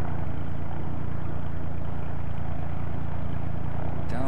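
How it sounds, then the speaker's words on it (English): A nearby aircraft engine runs in the FSX flight simulator, a loud, steady, low rumbling drone that holds constant throughout. "I hear somebody cranking up their engine nearby."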